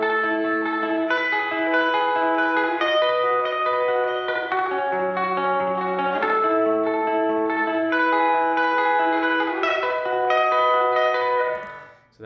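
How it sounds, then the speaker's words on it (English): A layered electric guitar arpeggio with heavy reverb rings out in clear repeating note patterns that blend into a shimmering wash, then stops abruptly at the end. "I have a couple of other guitars layered under that, one of which is this arpeggio kind of thing"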